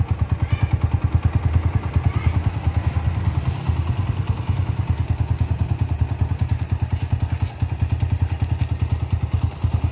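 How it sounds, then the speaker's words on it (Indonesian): A stock motorcycle from around 2000 idles close by with a smooth, even, rapid thumping beat that holds steady throughout, with light mechanical clatter on top. "Untuk stasioner sendiri empuk banget."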